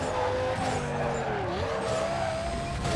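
A car drifts along a wide canyon road in the Need for Speed Carbon racing game, its engine droning while the tires squeal and skid with a wavering, sliding pitch throughout.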